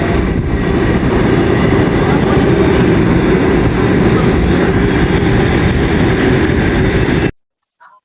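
A train passing on a railway, seen from a terrace above, a loud continuous rumble with rhythmic clatter that runs steadily and then cuts off abruptly near the end.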